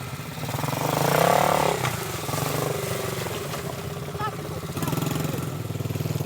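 A SuperMach 125cc four-wheeler ATV engine runs in first gear with a steady mid-pitched drone, briefly revving higher before settling, as someone talks briefly over it.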